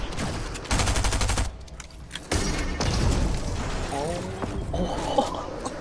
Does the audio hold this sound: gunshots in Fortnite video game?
yes